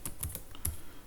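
Quick typing on a computer keyboard, a few light key clicks in close succession, near and quiet, without speech.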